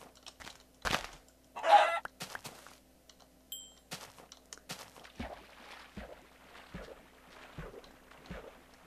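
Chickens cluck in a Minecraft UHC game, a few close, sharp clucks and squawks spread over several seconds between soft footstep-like taps in otherwise quiet surroundings.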